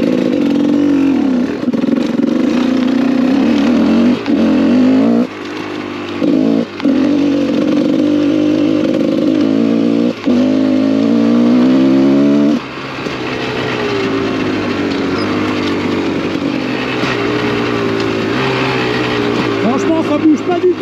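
A motorcycle rides along with its engine loud and close, holding a steady drone with a few brief dips as the throttle closes, then a rising rev before it settles to a lower, rougher note.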